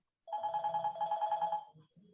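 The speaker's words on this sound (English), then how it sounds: "Someone's ringing me, don't ring me." A phone rings once with a rapid trilling electronic tone, fairly quiet and close, then cuts off with a couple of faint clicks.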